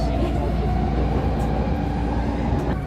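A Vancouver commuter train bound for Waterfront station rumbles steadily from inside the car, a loud, continuous low drone with rattling and no clear voices.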